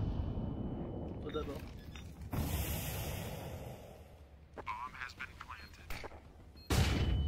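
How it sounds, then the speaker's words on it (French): Grenade blasts and gunfire in the Counter-Strike video game, with broad booming bursts and crackling shots rolling through the clip and a sharp loud burst near the end, mixed under voices talking. "Mais ils m'ont envoyé toutes les grenades du jeu."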